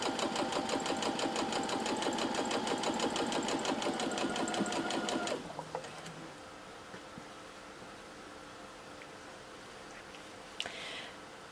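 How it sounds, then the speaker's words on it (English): Sewing machine stitching fabric pieces for a Dresden plate block with a quarter-inch seam: steady fast rhythmic whirring and needle ticking for about five seconds, then it stops, leaving quiet room noise and a faint later click. "we're gonna stitch these together with a 1/4 inch seam allowance"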